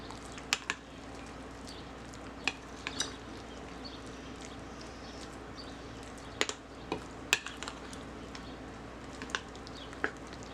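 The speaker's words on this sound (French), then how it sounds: "Ensuite, on rajoute les courgettes. Voilà. On mélange." Courgettes added and stirred into the mix for a courgette and goat cheese cake: soft, quiet squelching with sparse sharp clicks of a utensil scattered unevenly throughout, close up and without voices.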